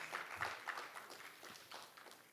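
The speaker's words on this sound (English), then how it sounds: "Oh, wow, you guys are clap happy." An audience at a high school writers' week talk claps in a scattered, uneven way. The clapping is faint and distant, with a few separate bursts rather than sustained applause.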